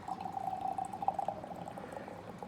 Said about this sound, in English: I'm going to pour this, and I'm pouring right in the middle of that glass.